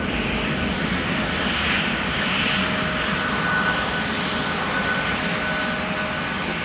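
A KLM airliner departing Amsterdam Schiphol Airport, a loud sustained jet engine roar with a broad rushing hiss that holds steady throughout as the plane climbs out, no voices.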